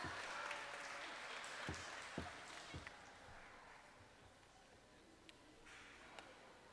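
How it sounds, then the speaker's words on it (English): Quiet, distant applause from an audience at a fifth-grade academic bowl, a soft continuous patter of clapping for the competing teams with a few sharper claps standing out. "Can you please give them a round of applause?"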